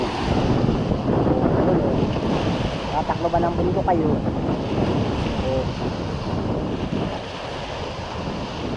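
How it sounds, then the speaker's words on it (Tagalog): Strong wind roars and buffets the microphone at a seaside fishport as Typhoon Uwan approaches, with heavy surf churning underneath throughout; someone speaks briefly over the din. "Lakas ng hangin eh."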